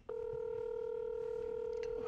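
A single steady electronic telephone tone, like a dial or keypad tone, sounds alone and unbroken for about two seconds at a quiet level.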